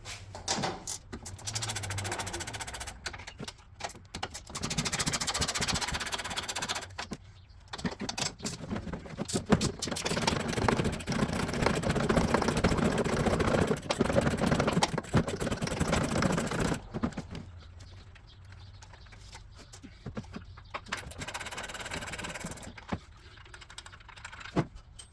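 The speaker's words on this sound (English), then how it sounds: "You can use a ratchet with a socket, or I like to use a ratcheting wrench for these, actually." Ratcheting wrench loosening 15 mm nuts during a front shock swap on a Gen 1 Ford Raptor, rapid clicking ratchet bursts close up, in several stretches separated by brief pauses.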